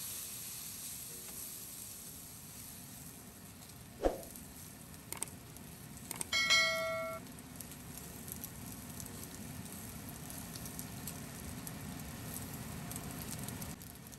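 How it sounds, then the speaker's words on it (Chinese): Cured fish pieces stir-fried in a wok, a quiet steady sizzle with a few clanks and scrapes of the spatula early on. "继续翻炒。"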